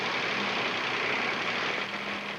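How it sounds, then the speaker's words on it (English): A 3-cylinder 600cc Kubota industrial diesel engine converted to run on CNG drones steadily and evenly, a continuous loud rumble with no pauses. "We're using an industrial diesel engine, a 3-cylinder, 600cc Kubota diesel engine"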